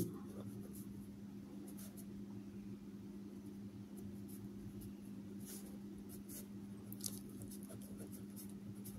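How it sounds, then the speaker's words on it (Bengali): A hand writes a letter during a grammar lesson, producing faint scattered scratchy pen strokes over a low steady electrical hum in a quiet room. "আমি শুধু এন লিখছি"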